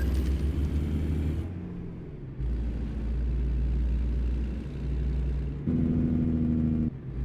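Truck engine in a trucking video game, steady engine drone with shifts in pitch and level as it idles and pulls away, then revs up to a higher, harmonic tone, heard alone.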